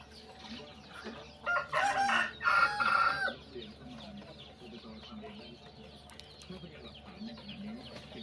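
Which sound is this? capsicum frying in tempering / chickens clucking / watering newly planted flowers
chickens clucking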